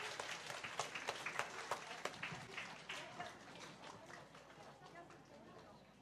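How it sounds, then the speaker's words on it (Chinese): A church congregation claps to welcome children during a service, a loose burst of applause that swells and then thins out, with voices chattering underneath. "我们大家去拍手欢迎他们"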